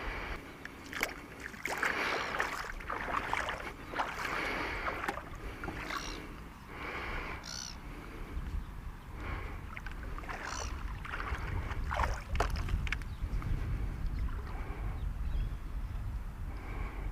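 A small radio-controlled boat runs across open water, with continuous sloshing and splashing hiss and bursts of spray as it moves, plus intermittent higher whirring surges from its motor, fairly close and steady throughout.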